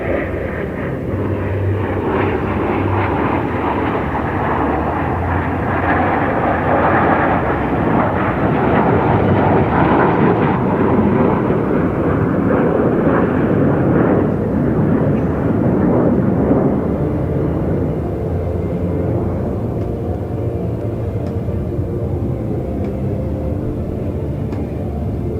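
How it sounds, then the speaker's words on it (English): Formation of six military aircraft flying overhead at an air show, a loud sustained engine roar and rumble that swells and slowly fades, with no talk over it. "Six aircraft to come into view to our right."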